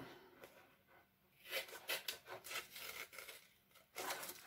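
Excess paper or card for a photo album is trimmed, giving faint, quiet rubbing and cutting strokes in short irregular bursts, with a louder run of scraping near the end.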